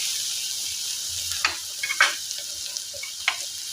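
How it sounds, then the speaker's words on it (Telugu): A potato and egg mixture stirred in a pan, soft steady sizzle with a few light scrapes and taps of the spoon, close and fairly quiet. "ఇది ఒకసారి బాగా కలుపుకోవాలి."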